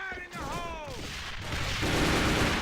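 Pre-fire gunshots ring out in the competitive AVA match as players ready to push up the stairs, a muffled burst of shots with whistling and booming tails in a wash of game noise, under the caster's commentary.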